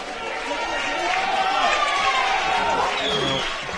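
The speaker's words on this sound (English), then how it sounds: "Good to hear the crowd getting behind them there." Crowd noise at a men's EuroHockey Championship field hockey match in Glasgow, Scotland: a steady swell of spectators rising and cheering behind a commentator talking.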